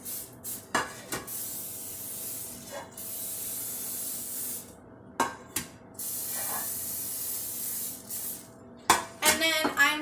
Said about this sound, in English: So here I've got some Pam canola oil cooking spray.